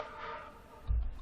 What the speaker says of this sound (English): That's actually a tom. It's just slowed down, stretched out